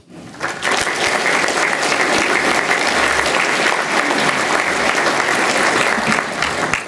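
An audience welcomes speaker David Stockman with loud, sustained applause: dense clapping begins abruptly after a brief quiet and holds steady for several seconds before easing slightly at the end.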